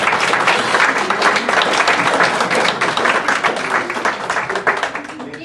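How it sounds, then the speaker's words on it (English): A Kiwanis annual banquet audience gives a big round of applause during the officer installation, a loud, dense burst of many hands clapping that runs steadily throughout, with some voices beneath it. "let's give this group a huge round of applause"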